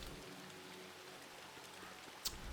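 Rain falling in the video game Don't Starve Hamlet, a faint, steady patter of drops with a soft wash underneath and one brief sharp tick near the end.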